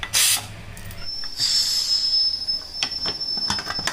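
A pressure cooker whistle shrills steadily for several seconds while cooking lentils for sambar, a thin high hiss of steam over faint background noise.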